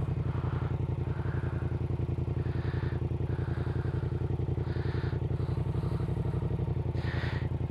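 A Yamaha MT-07 motorcycle idles with a steady, rapid close-up engine pulse as the clutch is let out without throttle and it begins to pull away, with faint talk over it.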